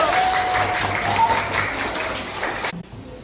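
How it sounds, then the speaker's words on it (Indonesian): A class of students clapping for a classmate named Alvaro, a steady broadband patter of hands in a room that stops abruptly near the end, leaving near silence. "Tepuk tangan untuk Alvaro"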